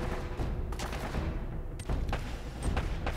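Automatic M4 rifle fire in the PS3 shooter Uncharted: Drake's Fortune, several short bursts over a steady bed of game sound, with a few sharper reports standing out.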